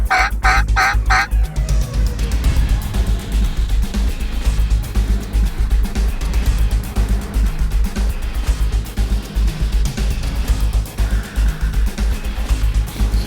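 Wild turkeys in a large flock call in a quick burst of loud gobbles at the start, then the sound fades to a low, steady outdoor rumble with scattered faint calls.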